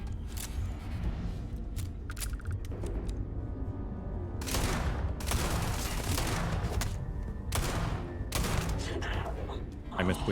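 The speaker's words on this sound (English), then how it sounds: "I missed way too many shots." Gunfire in the Starfield video game, with repeated bursts of shots and booming blasts over a dense, loud mix of game sound, continuing throughout.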